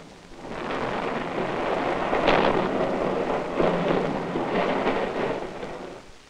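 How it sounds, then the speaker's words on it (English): A loud, sustained rumble of thunder-like sound from a distant nuclear weapon blast swells and rolls for several seconds before fading away, with no voices. "At a distance, the effect is that of a sustained loud rumble of thunder."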